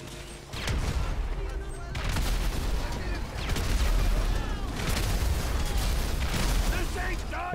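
Rapid gunfire fills a GTA V shootout, with dense overlapping bursts of shots, heavy booms and mechanical clatter continuing loud throughout, while someone talks over the action.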